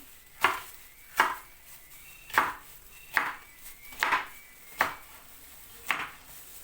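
A knife chops through vegetables on a cutting board, seven sharp evenly spaced strikes at a steady unhurried pace, close and clear with no talking.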